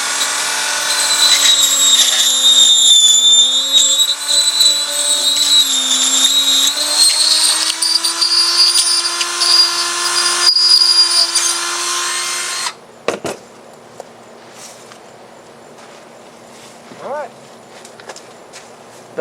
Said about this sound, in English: let's start dremeling out the area where we want these pieces to fit into place